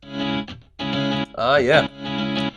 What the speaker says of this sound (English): So I actually used the contact library guitar